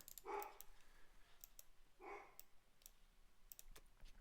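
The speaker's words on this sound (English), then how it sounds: "Sorry about my dog." A pet dog barks twice, each bark short and a bit distant, over light clicking and keyboard typing in a quiet room.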